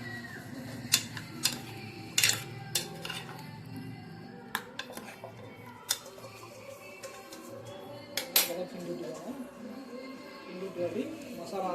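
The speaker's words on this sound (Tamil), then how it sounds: "ஃபுல்லாக கிண்டி விடுங்க மசாலா நல்லா மிக்ஸ் ஆகிடும்" Chicken masala gravy is stirred in a pan, with scattered light clinks and scrapes of a spoon against metal heard under a person's ongoing talk.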